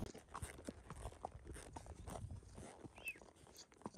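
Horse hooves walking outdoors during a rope-pulling training session with a young colt and steers, a steady series of soft clip-clop steps at moderate distance over a noisy, rustling background.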